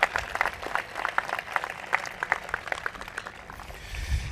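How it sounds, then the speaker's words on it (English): Audience applause at a university convocation ceremony welcoming a guest, steady clapping throughout at moderate distance, no voices over it. "Let's give him a big round of applause."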